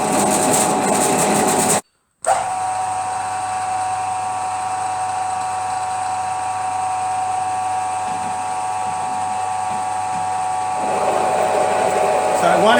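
A 9/16 drill bit cutting through metal in a machine shop press jig job for BSA Bantam parts, a loud continuous whirring grind with a brief cutout near the start, then steady running throughout.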